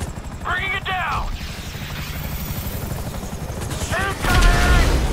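Police helicopter in Grand Theft Auto V, a steady rotor thrum running throughout under bursts of in-game shouting and dialogue, with heavier gunfire-like noise building near the end.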